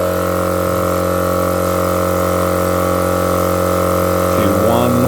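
Upgraded twin-cylinder offroad air compressor inflating vehicle tires, a loud steady mechanical drone with a constant pulsing hum throughout and a brief voice near the end.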